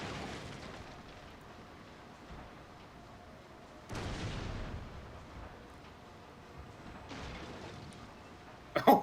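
Artillery guns fire in a video game, heavy booms landing at intervals over a quiet hissing background, with a sharp loud burst right at the end.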